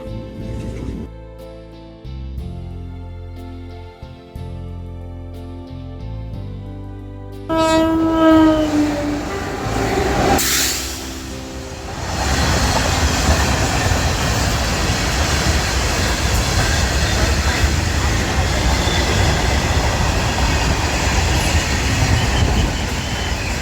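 A train's horn blares, then a train rumbles loudly past on the tracks with continuous rattling and clatter, very close, at Satimata temple between two railway tracks in Amalner.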